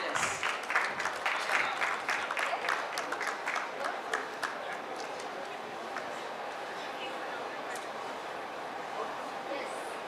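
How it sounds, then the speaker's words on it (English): An audience applauding panelists at a hospitality conference in Bengaluru, a burst of dense clapping that thins and fades over several seconds into room noise. "So, one last big round of applause for all our panelists."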